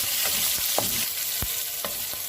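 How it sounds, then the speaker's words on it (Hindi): Chicken is stirred into lightly browned onions in a hot pan, with a constant sizzle broken by several distinct scraping stir strokes. "थोड़ा सा हम इस चिकन को मिक्स करेंगे।"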